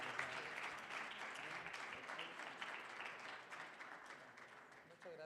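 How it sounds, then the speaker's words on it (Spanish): Steady crowd applause fills the whole stretch at a moderate distance, dense and continuous without a break, the ovation thanking a presenter named Jorge. "Hacemos un aplauso, por favor"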